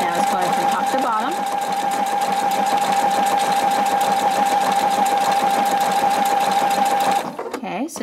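Brilliance 75Q sewing machine stitching steadily with a continuous whirring drone and rapid needle rhythm for about seven seconds, close and loud, then stopping abruptly near the end.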